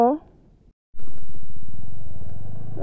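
A motorcycle with a faulty spark plug runs close by, its engine starting after a short gap and then holding a steady, rough rumble. A voice is heard briefly at the start.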